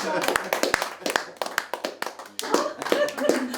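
A small group claps for Hugues, a painter on the seafront promenade, with sharp, uneven hand claps close by and people talking over them.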